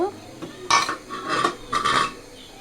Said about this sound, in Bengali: ঢাকনাটাকে আবার দিয়ে দিব সিদ্ধ হওয়ার জন্য